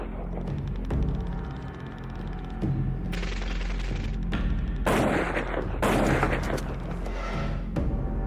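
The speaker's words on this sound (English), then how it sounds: "A heavy long-range sniper rifle that can take out a target nearly 2 kilometers away." In a video game, a heavy long-range sniper rifle fires during a battle for a village. Loud, booming reports ring out one after another with echoing tails, mixed with other battle noise and no speech.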